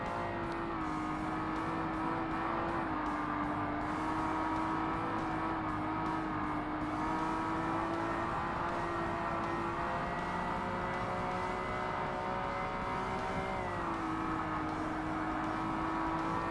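A heavy race car in Forza Motorsport on hard difficulty drones through a steady, loud engine note that rises and dips slightly through corners, continuous for the whole stretch with no voices.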